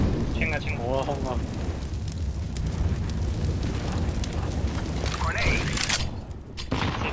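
An explosion in the video game CS:GO on the Vertigo map comes through as a loud, sustained rumbling roar, with excited voices talking over it.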